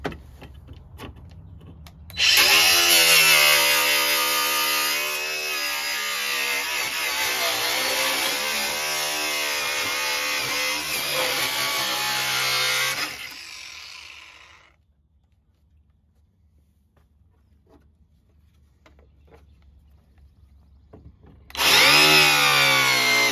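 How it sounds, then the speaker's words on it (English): A power tool trims the edge of a plastic shield while a golf cart light kit is installed. It gives a loud, high whining cut for about ten seconds, falls quiet, then starts cutting again near the end. "So I'm just going to go ahead and just cut the edge of it off just like this, kind of round it out"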